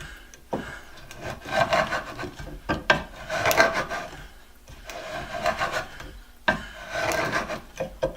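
A barrel bung auger reamer cuts into wood with rough, grinding rasps in uneven bursts, loud and close, pausing briefly between turns.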